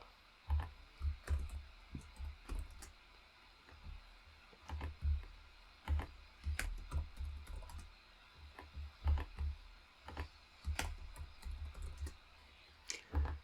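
Keys typed on a computer keyboard while entering team names into a game editor, a steady run of close clicking keystrokes in short bursts and pauses, with no speech.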